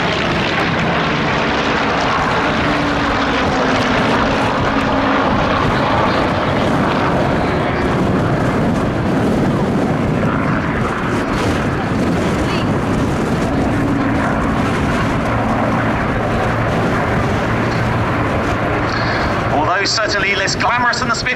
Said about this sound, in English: Certainly less glamorous than the Spitfire, the Hurricane very much a fine warhorse, very rugged